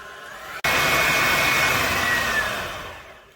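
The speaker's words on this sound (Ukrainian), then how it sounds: "Включаємо на високу швидкість і розпочинаємо взбивати." An electric mixer whips eggs with sugar at high speed in a mixing bowl, switching on with a click into a loud, steady whirring drone that holds and slowly fades slightly, close and alone.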